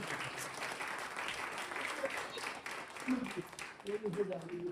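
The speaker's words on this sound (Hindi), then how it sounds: "हम जोरदार तालियों से क्यों ना स्वागत करें" Steady applause from a congregation at a Sunday church service fills the room, a dense wash of clapping with some voices mixed in near the end.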